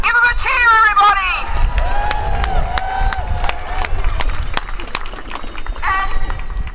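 At a street protest against Trump's Muslim ban, a crowd cheers and claps loudly for first-time demonstrators, with whoops, shouts and whistles rising over steady crowd babble as nearby voices talk.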